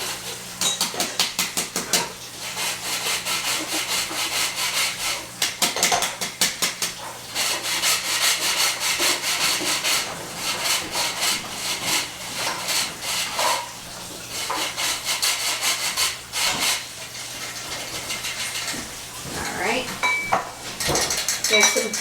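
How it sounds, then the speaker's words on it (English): Flour and cocoa sifted through a sieve into a mixing bowl for a chocolate fudge cake, a steady rubbing, scraping rasp with light metallic taps, close and continuous with no talking. "I'm just going to sift it right into the mixing bowl here."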